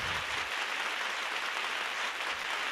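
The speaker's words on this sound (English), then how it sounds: "Hold the applause" Sustained applause from a symphony concert audience, a dense, even wash of clapping that stays steady from start to finish without any voices.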